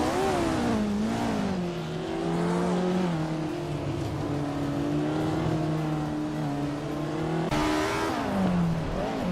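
A 1962 Lola Mark IV Climax race car engine in a racing video game, droning steadily at high revs with pitch rising and falling through gear changes, continuous and fairly loud with no talk.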